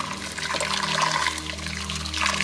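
Hot water poured into a pressure cooker over lamb feet for blanching, a steady splashing gush and trickle lasting a few seconds, close and fairly loud with no talk.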